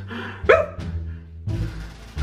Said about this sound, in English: they can't stop barking